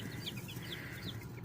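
Soft, high peeps from baby chicks in a brooder sound a few times over a steady low hum, fairly quiet and close.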